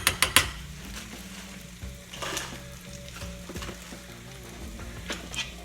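Brown sugar sizzles and caramelises in a hot pan, a soft steady frying hiss that opens with a few sharp metallic knocks of a utensil on the pan, then a spoon scraping and stirring now and then; no talking.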